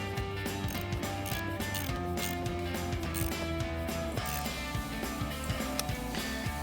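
A ratchet clicks in steady rapid bursts as a headlight nut is tightened onto its stud on a 2019-2024 RAM 2500, close and continuous under a busy mechanical background.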